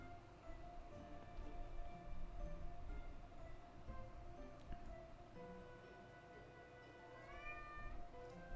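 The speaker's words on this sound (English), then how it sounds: "that would be my cat, Baby." A pet cat named Baby lets out a single short, rising meow near the end, faint and somewhat distant over a quiet room with a soft ticking background.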